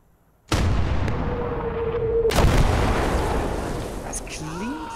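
An artillery shell fires in the World War II strategy game Gates of Hell: Liberation, a sudden loud boom followed by a sustained rumble and a second heavy blast about two seconds later, with distant tonal effects trailing at the end.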